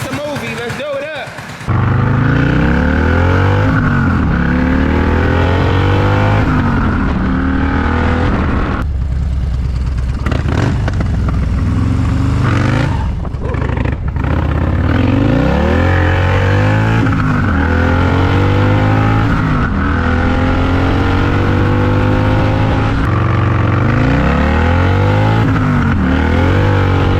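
A built Harley motorcycle engine runs loud and close for the whole stretch, revving in repeated rising and falling surges with a steady low rumble beneath, and a brief dip in the middle before picking back up.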